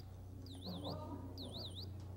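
A squeaky dog toy shaken to mimic a bird, giving two quick bursts of high, warbling chirps with a steady low hum underneath, fairly faint.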